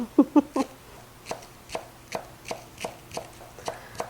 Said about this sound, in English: We're just going to slice these really thin.